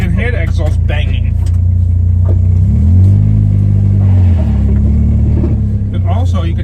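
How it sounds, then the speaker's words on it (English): A Toyota MR2 Spyder with a swapped K24A engine idles loud and close with a steady low drone, swelling briefly as it creeps, while someone talks over it and the exhaust gives occasional pops. "you can hear the exhaust banging."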